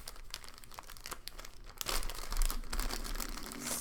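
Little paper envelopes from a card making kit handled up close, giving a continuous crinkling and rustling of paper that grows louder and busier partway through, with no one speaking.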